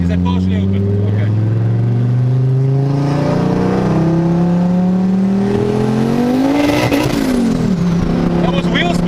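Revving engine of a heavily modified Ford Focus ST MK2 making over 600 kW, with pitch climbing and falling during a bout of wheel spin, close and loud and running continuously throughout, with people talking over it.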